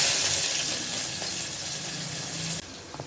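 Chopped onion fries in hot oil with mustard seeds and curry leaves for mint rice, a loud, dense, steady sizzle heard up close that suddenly drops away near the end, leaving a faint clink.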